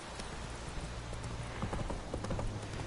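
A horse's hooves clip-clop steadily in The Witcher III video game, a regular galloping beat under a continuous, dense game soundscape with no speech.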